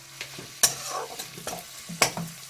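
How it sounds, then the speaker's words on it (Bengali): Onions frying in a pan for a Bengali banana-flower and masoor dal recipe, a soft sizzle broken by sharp, close spatula scrapes and clinks at irregular intervals. "আমি এখানে শুধু পেঁয়াজ দিয়েই দিচ্ছি"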